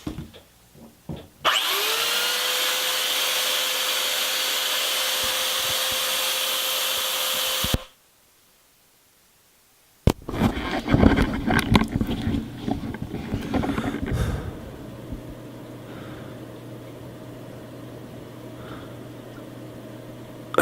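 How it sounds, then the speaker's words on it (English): A belt sander shaping a stockwhip handle whines up to a loud, steady run, stops after a gap of silence, then restarts with rough grinding contact before settling into a quieter hum. "So we plug our belt sander in."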